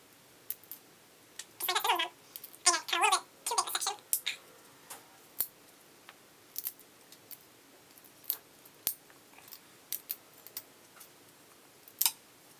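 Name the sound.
knife cutting out an old fishing rod cork grip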